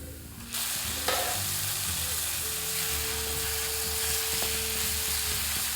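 Chopped tomatoes fry in hot oil in a pan for tomato idiyappam, a steady close sizzle running throughout, with a spatula scraping and stirring through it and one sharp clink near the start.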